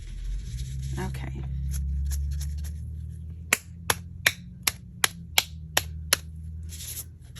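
Gloved hands clap and flick to spatter mica spray stain, first a few soft scattered taps, then a run of about ten sharp, evenly spaced claps, close and loud over low background rumble.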